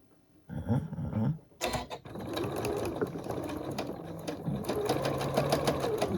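A sewing machine stitches precision-cut quilt fabric corners together for a poinsettia table runner, a rapid close mechanical rattle that starts, pauses briefly, then runs steadily, with faint handling noise and no talk.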